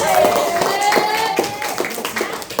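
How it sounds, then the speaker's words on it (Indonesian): Children clapping in a classroom during a geometry lesson, a burst of irregular hand claps that carries on over a few seconds alongside faint voices and background chatter. "Tepuk tangan dulu untuk Ikhwan."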